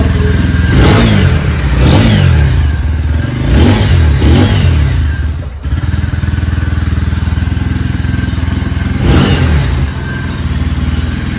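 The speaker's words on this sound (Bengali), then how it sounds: "তো গাড়িটা দেখে আমি আপনাদেরকে একবার স্টার্ট করে দিই" A motorcycle engine starts and revs in several loud bursts, then settles into a steady close idle with another rev near the end.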